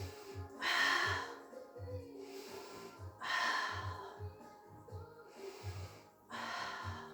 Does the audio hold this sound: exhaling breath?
yes